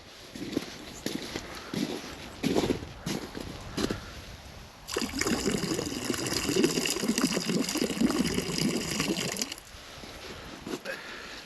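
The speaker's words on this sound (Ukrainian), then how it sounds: "Так що живців відпускаю я в воду" Live baitfish are let go into the water at the end of a pike fishing trip, a gushing splash and sloshing of water up close lasting several seconds, with lighter splashes and handling noises before it.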